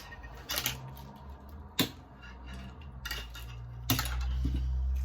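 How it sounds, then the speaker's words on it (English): Small wooden pieces being cut down by hand for an autumn wreath, giving a few sharp isolated snaps and clicks spaced a second or two apart, with a low steady hum underneath. "So I'm going to cut these down a little bit"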